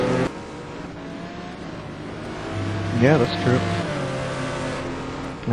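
Race cars battling in the STC Black Cup at Anderstorp, three different cars close together, engines droning and rising as one passes nearby under continuous commentary talk.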